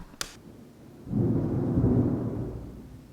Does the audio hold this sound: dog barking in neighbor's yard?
no